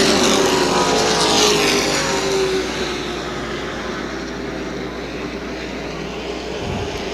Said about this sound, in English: Our leaders are approaching lap traffic.